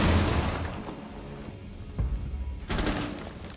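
Shots and a booming burst in Rainbow Six Siege competitive play crack at moderate volume, with a few sharp reports spread across the stretch and a louder blast near the end.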